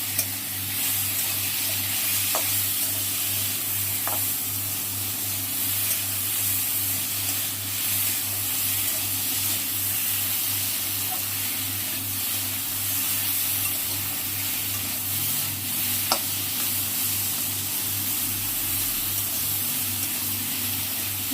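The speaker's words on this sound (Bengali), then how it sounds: "এবার লঙ্কা জিরে বাটাটা একসাথেই দিয়ে দিলাম, দিয়ে এবার একটু নেড়ে চেড়ে নিই" Ground chilli and cumin paste fries in a pan with a steady close sizzle and hiss, while a few light scrapes and clicks from stirring break through it. A low hum runs underneath, and no one speaks.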